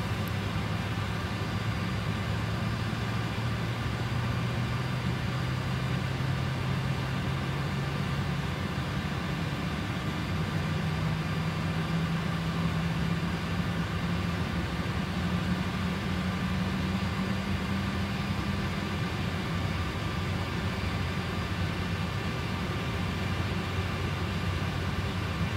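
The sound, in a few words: PMDG 747 engine number 2 starting up in FSX video game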